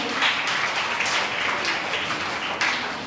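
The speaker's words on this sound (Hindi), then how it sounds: "की भरपूर तालियों में" An audience at a school assembly in Lahore gives a warm round of applause, a soft, continuous patter of many hands heard from some distance, swelling in brief waves.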